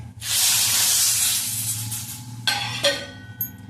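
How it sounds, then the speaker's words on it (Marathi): A loud burst of sizzling as hot tempering hits South Indian rasam for rasam vada, a hissing rush that slowly fades, then a couple of clinks of a lid or utensil. "ही फोडणी त्यावर ओतून"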